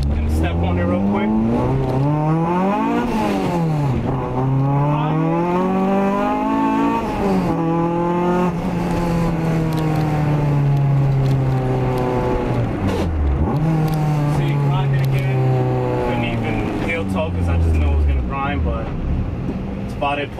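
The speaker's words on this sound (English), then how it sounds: "Gonna step on it real quick." Car with a Honda H22/H23 manual transmission fitted with Mtec shifter springs, accelerating hard. The loud engine climbs steadily in pitch, drops sharply at each gear change and pulls again through several gears without a break.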